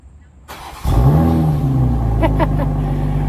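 A Toyota GR Supra starts by remote start: a click, a brief crank, then the engine catches and settles into a steady, loud, close idle with a slight rev.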